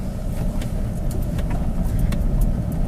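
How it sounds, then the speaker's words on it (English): A 4x4 crawls downhill in low range and first gear on a snowy backwoods road, its engine a low steady rumble with faint crunching ticks, continuous and moderately close. "put your 4x4 into low, 4 low, and then put your gear shifter into first gear, and it'll just crawl down"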